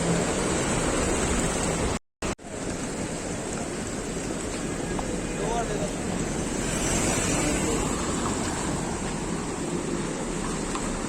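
A river flowing at Old Manali in the mountains produces a steady, loud broadband rush of water mixed with wind noise, continuous apart from a brief dropout.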